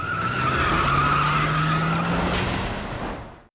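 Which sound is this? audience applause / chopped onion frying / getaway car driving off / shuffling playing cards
getaway car driving off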